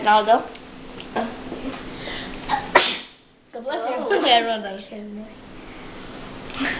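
Someone nearby sneezes once, a sharp loud burst, amid casual conversation among several people.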